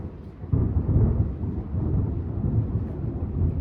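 Low rumbling thunder from a thunderstorm, a deep rolling boom that swells after a quiet start and keeps grumbling at moderate volume throughout.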